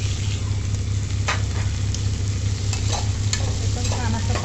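Tomato, capsicum, carrot and fresh peas sauté in a pan for matar pulao, a loud, continuous close sizzle with scraping stirs breaking through now and then.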